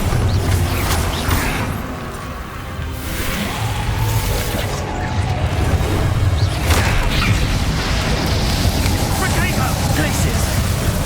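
Bombarda explosion spells in Hogwarts Legacy combat: a steady, dense stream of booming blasts, whooshes and mechanical crashes rolls on for about eleven seconds, with fuller bursts near the start and middle.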